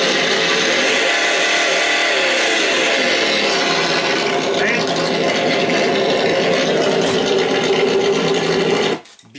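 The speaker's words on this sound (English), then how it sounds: "A monster truck has a cool V8 sound, and that's why I put here" A soundbox fitted to a brushless SMT10 Grave Digger RC monster truck plays a simulated V8 engine. It is a loud, steady, dense rumble that holds for about nine seconds and then cuts off abruptly.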